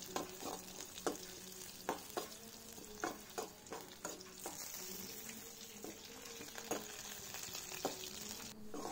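Green chilies stirred and roasted in a hot pan for a milk-and-tapioca dish give a steady close sizzle, punctuated by regular sharp scrapes and clacks of the spatula against the pan.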